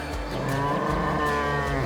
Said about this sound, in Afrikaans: Kyk, dis 'n bees wat skop en beweeg.